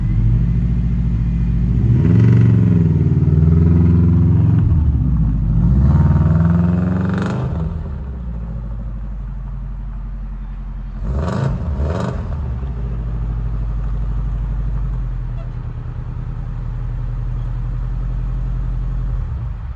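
A modified 2010 Subaru Impreza WRX STI with a 2.5 engine, custom map and quad exhausts revs up loudly several times, with deep rumbling idle between sharp blips and rising pulls, recorded close with no talking.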